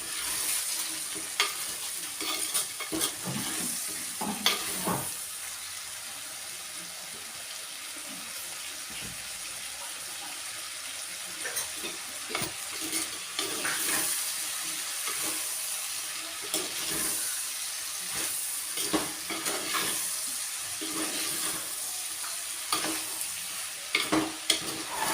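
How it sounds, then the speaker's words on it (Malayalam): Papaya pieces for pickle sautéing in a hot pan, a steady sizzle running throughout with repeated scraping stirs of the spatula at intervals, close and fairly loud, no voices. "പപ്പായ നന്നായിട്ട് വെന്ത് പോകണ്ട, നമ്മളിതിലൊന്ന് നന്നായിട്ട് വഴറ്റിയെടുക്കണം"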